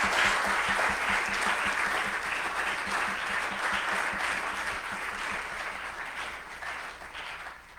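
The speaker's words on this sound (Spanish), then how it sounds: "Yo quisiera pedirles un fuerte aplauso para nuestras colegas de Argentina." Sustained audience applause at an academic talk on migration studies, a dense steady wash of many hands clapping that fades slightly toward the end, with no voices over it.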